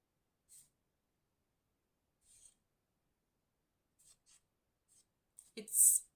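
A Neocolor II wax crayon drawing light lines on paper gives a few faint, brief scratchy strokes separated by silence, closing with a slightly louder rustle.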